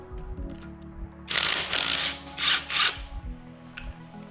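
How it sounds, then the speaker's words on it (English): A ratchet wrench loosens a car wheel lug nut, several rapid clicking bursts close up following a low mechanical hum, then quiet, with no talking. "Remove one of the lug nuts."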